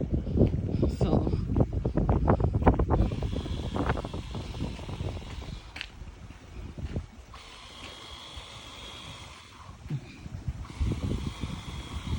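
Outdoors beside a lake, gusty wind buffets the microphone with a steady, rough rumble, while a voice speaks at moments.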